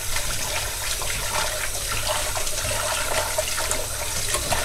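Tap water runs steadily into a bowl while raw shrimp are rinsed, a close, continuous splashing stream with no talking.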